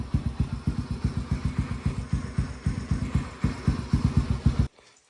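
A Yamaha TTR125 dirt bike engine runs just after an electric start with the choke on, thumping in a steady, rapid single-cylinder idle rhythm close by, then cutting off abruptly near the end.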